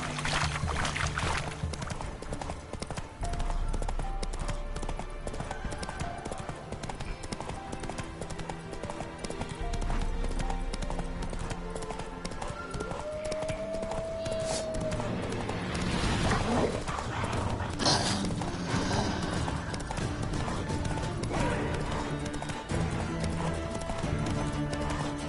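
Horse hooves clip-clop steadily on the ground in The Witcher 3 video game, a rhythmic mid-distance trot under game music and someone speaking, with a brief tonal sound partway through.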